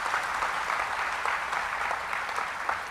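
An audience at a Kavi Sammelan poetry gathering in Mumbai bursts into sustained applause, a dense, even wash of many hands clapping for a few seconds.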